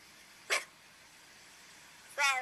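A person gives two short, high yips imitating a puppy's bark, separated by a pause of quiet.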